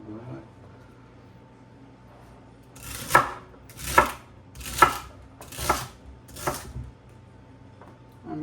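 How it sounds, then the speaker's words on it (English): A knife chopping garlic leaf and celery for a Greek yogurt salad, five distinct thuds on a board about a second apart, close and fairly quiet, following a stretch of low room tone. "you can also chop the celery like so"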